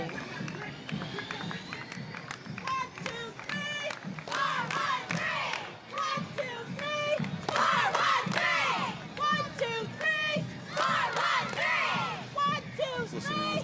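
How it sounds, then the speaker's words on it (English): Cheerleaders chant and shout in rhythmic unison at a July 4th parade in Pittsfield, loud repeated calls with crowd noise around them throughout. "Let's listen in as they cheer."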